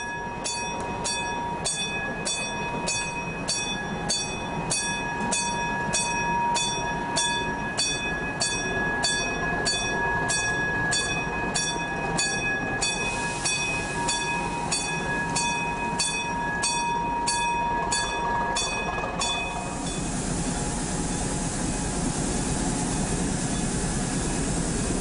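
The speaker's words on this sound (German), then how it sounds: "Im Zechenbahnhof Piesberg hat V65001 einen Museumszug bespannt." A V65 diesel locomotive hauls a museum train at the Piesberg colliery station. A steady rumble runs throughout, with regular rhythmic clicking from the rolling wheels for most of the clip before easing into a smoother drone.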